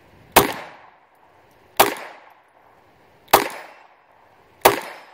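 A Taurus TX handgun fires four sharp, evenly spaced shots at a target 25 yards away, each crack followed by a short decaying echo, with no talking between them.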